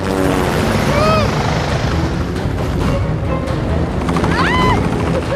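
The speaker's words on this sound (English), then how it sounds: "Suddenly, in the distance, come two bloody helicopters and two trucks just driving and flying towards us, creating a massive sandstorm." Two helicopters and trucks approach across a sandy desert area, a steady loud rotor and engine roar filling the whole stretch, with brief faint calls or whistles above it.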